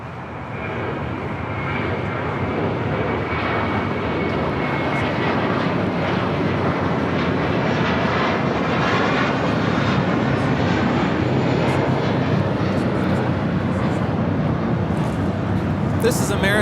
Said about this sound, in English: This is American 2135 taking off to Orlando, Florida on an A321.